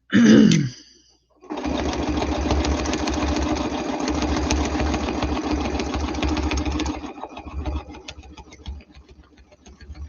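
A sewing machine stitches a quilt block in a steady, fast whirring run lasting several seconds, preceded by a brief sound and a pause, then slowing into a few quieter, intermittent stitches at the end.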